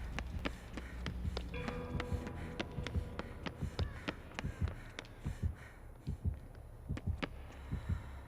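Dead by Daylight killer-proximity heartbeat warning: a steady, deep double-thump pulse repeating throughout, loud and close, over faint game ambience.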